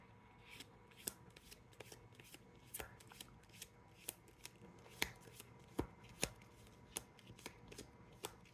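Tarot cards are shuffled by hand in a quiet room, soft riffling with irregular crisp snaps and taps, close and fairly faint.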